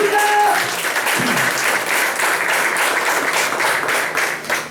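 A church congregation claps together in dense, sustained applause, loud and close, filling the room evenly for several seconds after a brief voice at the start.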